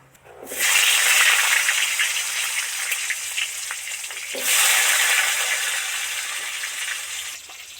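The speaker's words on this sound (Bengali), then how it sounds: "এবার পটলগুলো ছাঁকা তেলে ভেজে নেব" Pointed gourd (potol) pieces drop into hot oil for deep frying and set off a sudden loud, hissing sizzle. The sizzle settles, then swells again as more pieces go in, close by and with no talking.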